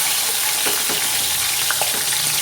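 Garlic and onion frying in a pan, a steady close sizzle with brief stirring scrapes, no voices.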